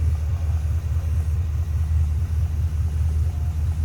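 A 2011 Chevrolet Camaro SS convertible with a 6.2 liter V8, cold air intake and headers idles steadily, a deep, loud, pulsing low rumble heard close up without any speech.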